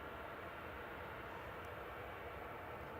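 A TUI Boeing 787-9 Dreamliner sits lined up on runway 05 left at Manchester Airport, with a faint, steady, distant jet rumble running evenly throughout and no voices.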